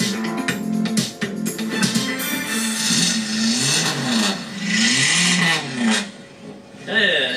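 A car engine revs up and down several times in loud, close bursts, its pitch rising and falling, with brief speech mixed in.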